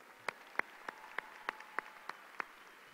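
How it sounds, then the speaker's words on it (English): Faint, evenly spaced claps, about eight in three seconds, at a high school graduation ceremony honouring the graduates, with no voices over them. "Let's give them one more round of applause"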